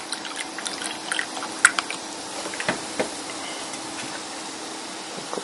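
Milk is poured into pancake batter in a bowl, giving a soft, quiet trickling and splashing with a few faint drips over several seconds.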